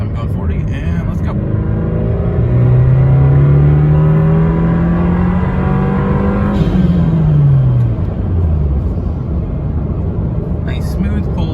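A 2022 Subaru WRX with a Burger Motorsports intake pulls hard to redline. The close, loud engine note rises steadily through the rev range, then drops sharply as it lets off, with intake and turbo sounds.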